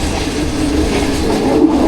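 The Rawal Express rushes past at night in dense fog, a loud continuous roar of rolling wheels and rail rumble close by, without any talk.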